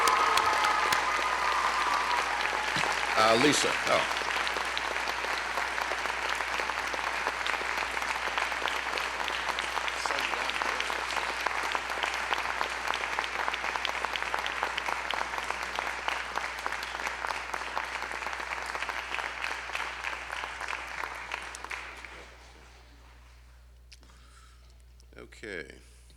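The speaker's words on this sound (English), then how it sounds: "please, she can hear us if we clap loud for" Sustained applause from an audience at the Stop the Hate awards ceremony, steady and full for about twenty seconds before tapering off, with a few brief spoken words near the end.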